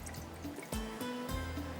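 A little water poured into a cooking pot while making sabzi qeema, a short, faint trickle and splash heard alone at close range.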